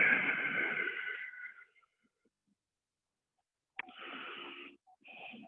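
Loud, strained breaths during a shoulder mobility workout: a long wheezy exhale up close, a pause of near silence, then two more forceful breaths.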